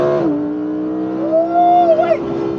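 Lamborghini Huracan Evo with a 5.2 litre naturally aspirated V10 under launch control acceleration, loud close engine note with a sharp drop in pitch, then a steady drone that rises through the revs before shifting.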